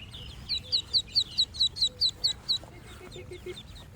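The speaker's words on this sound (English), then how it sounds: "The ducklings quickly gathered around, chirping and pecking at the food, while Lily watched them from her swing." Ducklings give a quick run of about a dozen rhythmic, high peeping chirps at close range, followed by softer scattered sounds against low background noise.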